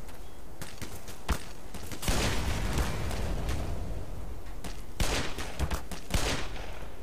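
Repeated gunfire in the Black Mesa shooter game, bursts of shots cracking through a constant noisy backdrop, with louder volleys landing near the two-second and five-second marks.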